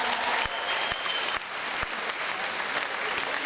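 Sustained applause from the crowd at a KVN comedy contest in Russia, a thick, even roar of many hands clapping with a few sharper claps near the front, loud throughout and free of talk.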